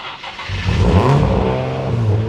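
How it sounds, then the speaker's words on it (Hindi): A Nissan Nismo 380RS engine just after a cold start revs up loud and close, then holds a rough, uneven high idle with a deep exhaust drone. "अभी गाड़ी कोल्ड स्टार्ट हुई है, थोड़ा आइडल पे बाउंस करेगी"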